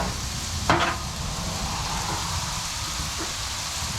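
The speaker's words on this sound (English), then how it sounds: "While that's going, you can see our steak is still cooking." Steak and mushrooms sizzle on a flat-top Blackstone griddle, a dense, even crackling hiss heard up close, with one brief sharp clatter near the start and no talking.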